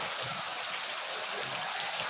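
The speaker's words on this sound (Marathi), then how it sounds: "हे बघा इकडनं पाणी येत आहे" Rainwater flowing in a small stream during heavy rain in Konkan, a steady hissing rush close by with no pauses.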